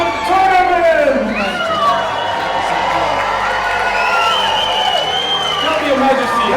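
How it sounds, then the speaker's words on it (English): A large crowd at a Medieval Times dinner tournament show cheers and whoops loudly for the tournament queens, a sustained roar of voices rising and swelling throughout with shouts over it. "My lords, my ladies, raise a cheer for our queens of the tournament!"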